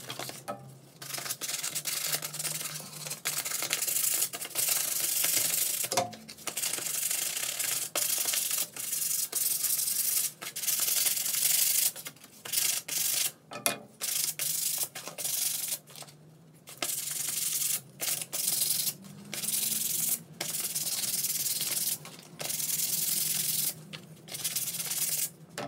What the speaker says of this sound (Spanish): puedes utilizar una lija más gruesa, pero para el MDF es mejor lija fina